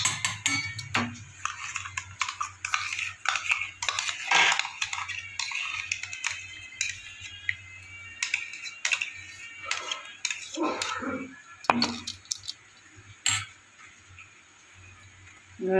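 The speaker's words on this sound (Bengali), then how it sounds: "এদিকে দইয়ের সাথে কাজুটা আমি মিক্সড করে নিই" A spoon mixes cashew paste into curd in a bowl, making irregular soft clinks and taps that come and go over a quiet background for about sixteen seconds, while paneer fries nearby.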